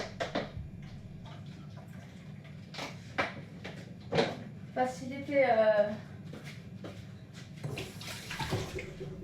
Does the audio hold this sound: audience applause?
no